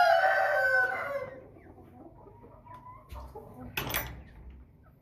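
A flock of 12-week-old American Bresse chickens is heard close by: a rooster crows loudly and briefly at first, then softer clucks and a sharp squawk follow.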